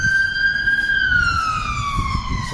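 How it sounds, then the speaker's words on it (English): Fire engine siren in a Bristol street, a loud single wailing tone gliding slowly downward with strong harmonics, near and continuous over low traffic rumble. "It's a fire engine."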